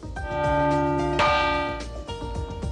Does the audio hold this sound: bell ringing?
yes